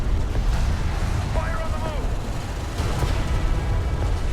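Battle cruiser firing a broadside at an enemy carrier in the strategy game Homeworld: Deserts of Kharak, a continuous, loud wall of deep booming rumble and blasts that barely lets up across the whole stretch.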